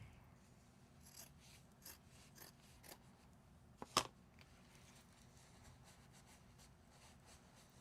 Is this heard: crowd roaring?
no